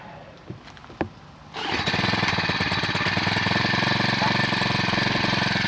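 A small two-stroke engine on a tree trimmer, primed with ten bulb pumps and choked, catches after a couple of sharp pulls and then runs loud and steady, buzzing continuously close by.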